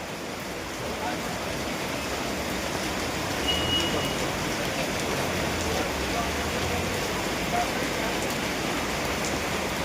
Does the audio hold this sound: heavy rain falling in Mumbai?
yes